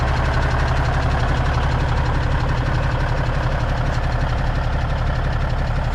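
An old Cummins diesel engine idles, smoking heavily, with a steady loud low rumble and an even rhythmic knock throughout, close by.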